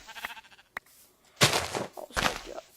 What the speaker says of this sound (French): Je suis tombé dans le pays des moutons.